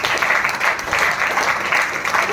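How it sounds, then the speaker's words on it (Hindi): An audience bursts into applause at a Tiens business presentation, brisk continuous clapping from a nearby crowd, loud and even throughout. "तालियां तालियां।"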